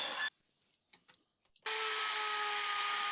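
Wood is cut on a router table. A loud burst of machining is followed by near-silence with a few faint clicks, then the router's steady hum and cutting noise returns and continues.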